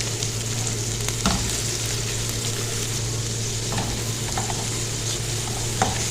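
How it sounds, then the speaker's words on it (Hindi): Finely chopped onion sautéing in a pan, a loud continuous sizzle with occasional spatula taps, over a constant low background hum, no talking. "जब इसमें से खुशबू आने लग जाए तो हम इसमें डाल देंगे 1 प्याज, जिसे मैंने बारीक काट लिया हुआ है"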